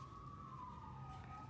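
A police car siren wails outside, a faint single tone sliding slowly downward over a low background hum, distant and steady.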